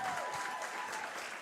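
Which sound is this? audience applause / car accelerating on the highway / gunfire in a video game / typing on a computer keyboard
audience applause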